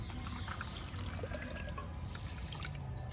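Water pours into a pan for sugar syrup for a soft carrot sweet, one and a half cups of water to one cup of sugar; a quiet, steady trickle runs for about three seconds with no talking.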